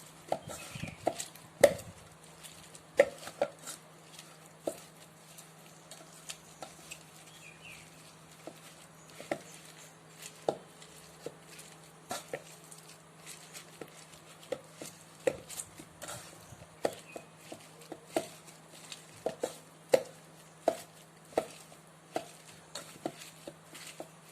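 Boiled tender jackfruit being mashed and broken apart by hand for a stir-fry, giving soft irregular squishing and tapping sounds at close range, quiet overall with no talking.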